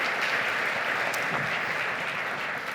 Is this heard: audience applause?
yes